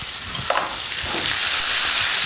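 Asparagus sautéing in a pan with lemon zest, a steady close sizzle and crackle with small pops and a brief stirring scrape partway through.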